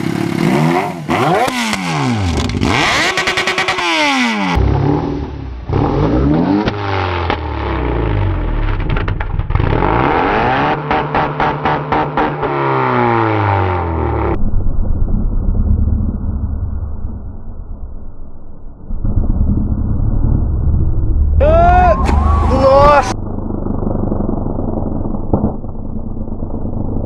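A Yamaha XJ6 motorcycle with condoms stretched over the exhaust, its engine revved hard and loud in repeated rising and falling bursts, with a brief high whine near the end.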